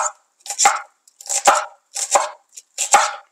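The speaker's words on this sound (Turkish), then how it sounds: "Minik minik doğruyorum." A knife chops six finely cut spring onions for a herb salad, striking the board in four quick bursts of rapid taps with short pauses between, close and clear with no talk.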